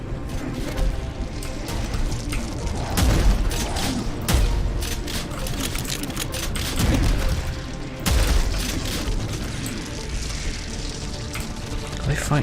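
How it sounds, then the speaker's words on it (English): An energy weapon firing in the shooter Prodeus, compared to Quake 3's BFG, heavy booming blasts that arrive in irregular bursts over a dense layer of combat noise and clatter, loud and close. "That gun sounds just like the BFG from Quake 3."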